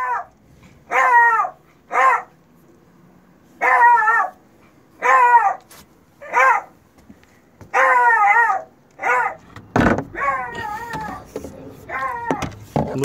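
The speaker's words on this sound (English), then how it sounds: "Listen to this dog." A beagle howls and barks in repeated bursts, wavering drawn-out howls broken by short pauses, loud and close.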